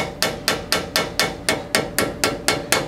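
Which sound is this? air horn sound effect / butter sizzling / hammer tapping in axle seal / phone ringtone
hammer tapping in axle seal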